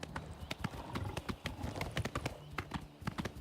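Horse galloping in the video game Oblivion Remastered, with a quick, steady run of hoof clip-clops, close and fairly loud, over faint ambient game sound.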